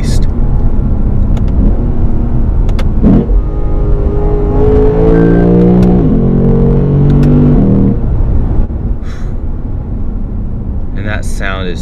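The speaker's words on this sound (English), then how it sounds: "The best thing about having a V8 powered car is once you get to a tunnel, this thing sounds incredible." A 2018 Lexus RC-F V8 revs hard inside a tunnel, its deep rumbling engine note rising and sweeping through several gear pulls with echoing roar before easing off.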